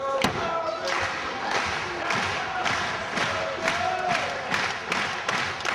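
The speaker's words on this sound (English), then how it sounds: "Listen to how loud this crowd is, how excited they are for 1PW." A large, excited crowd at a 1PW international tag-team wrestling match roars and cheers continuously, with loud thuds and slaps from the ring landing through the noise.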